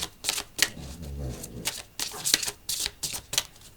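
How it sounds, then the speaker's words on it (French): A deck of playing cards is shuffled close by in repeated bursts of quick riffling flutters and slaps, separated by brief pauses. "Réfléchissez pendant que je bats mes petites cartes, que je mélange"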